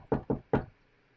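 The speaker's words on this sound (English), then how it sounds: "That was 4 knocks." Three sharp knocks rap on a hard surface in quick succession, the first two close together and the third after a short pause, then quiet.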